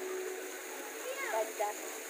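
A small waterfall beside a swimming pool splashes steadily, making a faint, even wash of falling water with soft voices faintly in the background.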